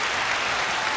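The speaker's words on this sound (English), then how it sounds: "Round of applause for them." A brief burst of applause on a sports podcast, a dense, even wash of clapping lasting about a second with no talk over it.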